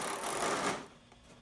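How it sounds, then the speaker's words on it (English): Power drill boring a hole into a gutter during a second-floor downspout installation: a loud whirring grind for most of a second that then drops off sharply, leaving a faint quieter hum, close to the microphone with no talking. "we're going to drill a hole right in that gutter"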